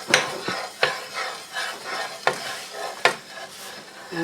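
Flour stirred and browning in a hot pan for fried pork chops: a spoon scrapes the pan in repeated strokes about once a second, with a soft sizzle underneath and no talking.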